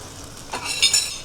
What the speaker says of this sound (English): I'm going to go in with my fresh tomatoes.